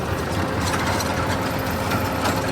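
Tractor engine labouring steadily in first gear while ploughing a field for potato planting, a continuous low rumble with faint knocking that runs unbroken and close throughout, with no voices.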